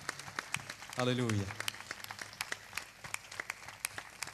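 A congregation at an evangelical church service applauds, steady rhythmic clapping running throughout, with a single voice briefly calling out over it.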